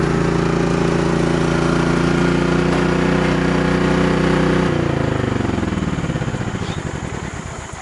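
A very small generator engine runs loud and close after a pull start, a steady buzzing drone that changes pitch partway through and then begins to trail off.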